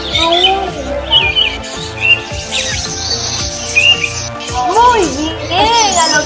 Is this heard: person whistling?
no